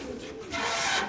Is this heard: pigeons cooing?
yes